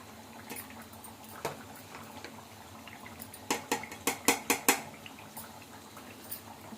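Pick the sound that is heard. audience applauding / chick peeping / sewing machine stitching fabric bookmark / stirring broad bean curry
stirring broad bean curry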